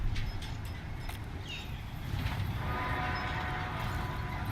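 Monorail gliding past in the video game Death Stranding 2, a steady rushing rumble that swells slightly as it nears, with no talking.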